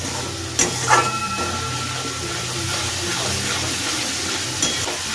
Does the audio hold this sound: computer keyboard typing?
no